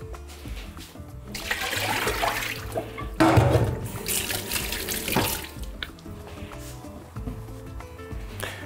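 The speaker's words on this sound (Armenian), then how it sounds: "հոսող ջրի տակ լավ լվանում ենք" Water runs from a tap in a steady splashing stream while beef tongue is rinsed beneath it, rising and falling as hands move through the flow.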